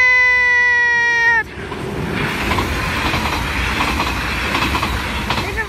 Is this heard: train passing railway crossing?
yes